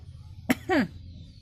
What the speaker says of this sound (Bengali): কাশি দাও